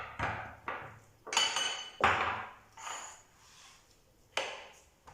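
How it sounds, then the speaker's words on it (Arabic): Clay tagine lid clinking and knocking against the pot, a series of separate ceramic taps and scrapes spread irregularly, close and fairly clear. "دابا غنشد الطاجين"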